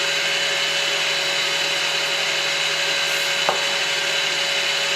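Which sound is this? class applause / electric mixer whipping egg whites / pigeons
electric mixer whipping egg whites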